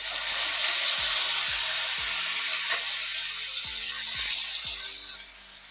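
Paneer sizzles in hot white oil with salt, a loud steady frying hiss with a few soft clinks and scrapes, tapering off near the end.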